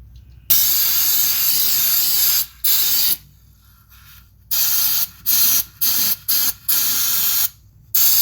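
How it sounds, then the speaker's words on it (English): Carburetor cleaner hisses from a spray can onto a hydraulic oil screen in a series of loud, close bursts, first one long blast, then several short repeated sprays with brief silent gaps. "just gave it a light blast of carb clean"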